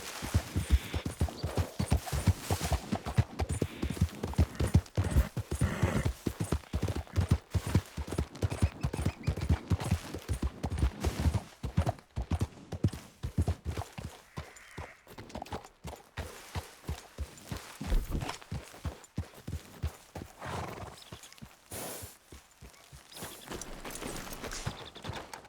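Horse hooves pound in a steady gallop in Red Dead Redemption 2, a fast, dense run of thuds that stays loud at first and eases slightly later, with no talk over it.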